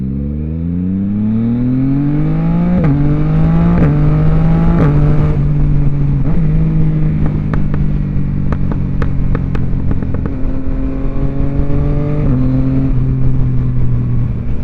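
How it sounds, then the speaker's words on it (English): Yamaha XSR900 motorcycle with an aftermarket exhaust accelerating through the gears, its loud engine note climbing and then dropping sharply at each quick-shifter upshift, with crisp pops between shifts and no talking. "I love the way this quick shifter sounds, like with this exhaust."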